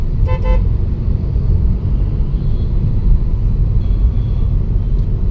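Steady city road traffic in Hyderabad, a loud continuous low rumble of passing vehicles close by, with a short double toot of a car horn near the start.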